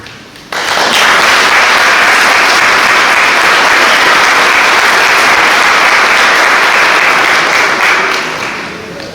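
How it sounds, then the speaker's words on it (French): A large audience at a Sainte Barbe firefighters' ceremony bursts into loud, dense applause that starts abruptly, holds steady for several seconds and then begins to taper off. "je vous propose maintenant de faire une pause dans le discours et de vous applaudir"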